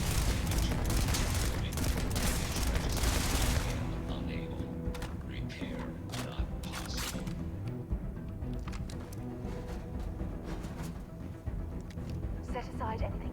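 Dense bursts of gunfire, including shotgun blasts, crackle through a Starfield gameplay fight, heavy and continuous at first, then sparser shots over background game noise while a voice talks throughout.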